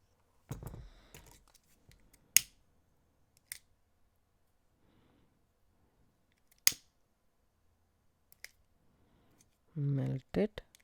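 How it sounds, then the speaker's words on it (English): Scissors snip satin cord in a few sharp isolated clicks spread across mostly quiet moments, with brief rustling of handling and a short burst of louder noise near the end. "Then snip this off."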